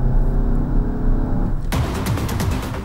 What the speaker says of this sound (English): So we shift down in the precise 6-gear transmission and enter the curve with engine roaring.